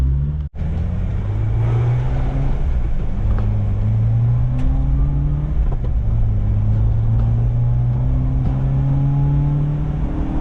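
A Subaru Sambar kei van engine drones steadily from inside the cab as it accelerates on the highway, pitch climbing then dropping with each gear change, a loud continuous rumble with no talk.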